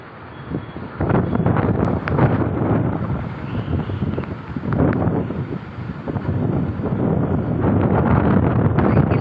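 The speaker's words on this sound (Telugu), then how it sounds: "మాకైతే భలే గాలి వస్తుందండి" Strong wind roars steadily against the microphone during a rainstorm, a dense, loud rush with gusting surges throughout; no separate rain patter stands out.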